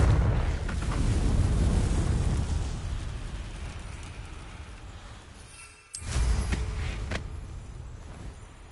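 Confringo blasting spell in Hogwarts Legacy: a loud, rumbling explosion that slowly fades, then a second sharp blast burst near the end, with no talking.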